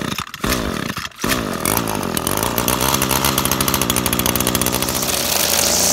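An Echo string trimmer fitted with a new carburetor and air filter sputters briefly after two pull attempts, then catches and runs at a loud, steady two-stroke buzz close by.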